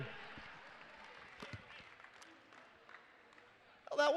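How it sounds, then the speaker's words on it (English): Scattered applause from a crowd in a gym during a women's college basketball game, Georgia Southwestern against Columbus State, steady and fairly distant for several seconds before a louder voice cuts in at the end. "How about a round of applause?"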